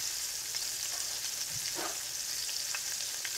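Oyster mushrooms fry in hot oil with a steady, even sizzle and a soft stirring scrape partway through, with no talking.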